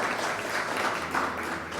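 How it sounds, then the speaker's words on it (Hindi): A brief burst of clapping from people gathered in a television newsroom, fairly quiet and roomy, lasting under two seconds. "ये लड़का जो ताली बजा रहा है"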